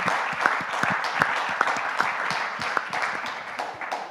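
Steady crowd applause with many hands clapping together, a dense continuous patter, fairly close and sustained throughout.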